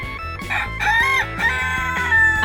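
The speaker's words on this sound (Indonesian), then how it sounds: "Ayam adalah unggas yang telah menjadi bagian dari kehidupan manusia selama ribuan tahun." A rooster crows loudly and close in a farm setting, one long drawn-out cock-a-doodle-doo with wavering tones, backed by clucking chickens.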